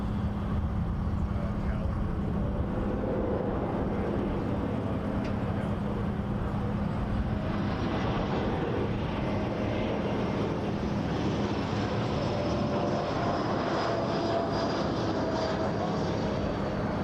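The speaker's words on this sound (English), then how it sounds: "Airplane's going normal airplane speed." An airliner on approach to runway 24L at Toronto Pearson roars steadily in the middle distance, a sustained engine drone with a rising whine over a long, even stretch, with people talking nearby.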